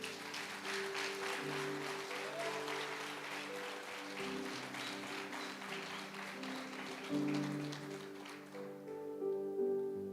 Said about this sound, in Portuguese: Vamos dar uma salva de palmas para Jesus aí